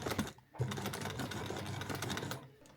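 A sewing machine runs a continuous burst of rapid stitching along a pants seam, reversing briefly at the end, its loud mechanical whir heard up close with short pauses at the start and finish.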